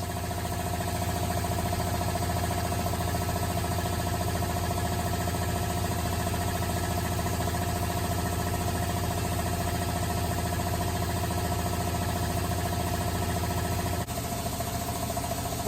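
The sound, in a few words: CA3 series 15 horsepower electric industrial air compressor running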